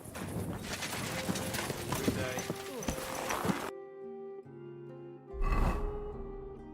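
Horse hooves clip-clop in Kingdom Come: Deliverance II, steady under game music and ambience, with a louder burst near the end.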